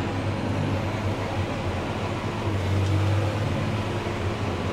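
A crop sprayer's engine drones steadily as it drives through a winter wheat field, with a loud, continuous low rumble and no talk.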